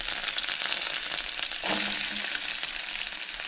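Ginger sautéing in hot oil in a home kitchen for a Konkani dish, giving a continuous loud crackling sizzle with a soft stir partway through, no voices.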